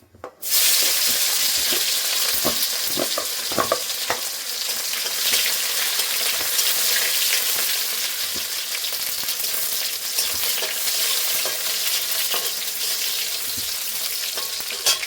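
Garlic dropped into hot mustard oil in a wok, bursting into a loud, bright, sustained sizzle that stays strong throughout, with a few faint utensil knocks and no voices.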